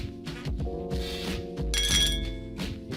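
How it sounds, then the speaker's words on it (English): Glass beer bottles clink together in a toast, several sharp chinks and thunks with a bright ringing clash near the end, close and fairly loud over a musical background. "Ace holds his bottle overhead, clinking it against D's, and downed the beer in one gulp"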